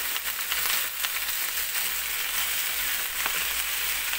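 A steady, loud sizzle of vegetarian rice noodles and carrots being stir-fried in a pan, heard up close as one continuous hiss with no pauses and no voices.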